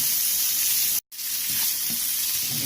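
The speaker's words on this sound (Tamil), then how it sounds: "நம்ம வச்சிருக்க 1/2 பெரிய வெங்காயம் போட்டுடலாம். ஒரு 2 நிமிஷம் ஃப்ரை பண்ணுங்க." Half a large onion sizzles loudly in hot oil for a Tamil-style paneer Manchurian, a steady close frying hiss with one brief break midway and no voices.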